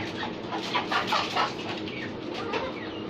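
An aggressive young fighter rooster kept in a cage, giving close, fairly loud clucking and throaty calls over a short stretch with a constant background hiss.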